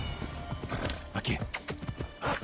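A horse's hooves clip-clop in Assassin's Creed Odyssey, with irregular thuds and a brief whinny as a player talks over the game sound.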